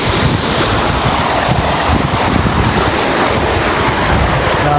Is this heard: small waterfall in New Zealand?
yes